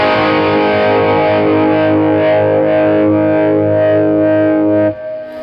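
Electric guitar played through a Peavey Classic 30 tube amp, a sustained distorted chord ringing loud and full, alone, then cut short near the end.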